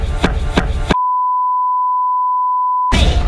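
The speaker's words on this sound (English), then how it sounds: "The Germany EAS alarm is fake." An emergency alert system alarm gives one steady, pure, unbroken beep tone of about two seconds. Short bursts of loud, harsh noise come just before and after it.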